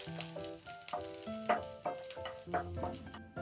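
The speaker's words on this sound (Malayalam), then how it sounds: "2-3 അല്ലി വെളുത്തുള്ളി ചെറിയ പീസായിട്ട് കട്ട് ചെയ്തത് നമുക്കതിലേക്ക് ഇട്ട് കൊടുക്കാം. ഒന്ന് ഇളക്കി കൊടുക്കാം." Chopped garlic frying and being stirred in a pan for chicken momos, with a soft sizzle under repeated clinking scrapes of a spoon against the pan at an uneven rhythm, close and fairly quiet, with no talk.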